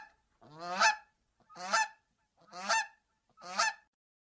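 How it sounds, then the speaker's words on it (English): Geese attacking a man give four loud, harsh honks, evenly spaced about a second apart, each one close and clear against silence. "that goose just straight up launched itself at Dad"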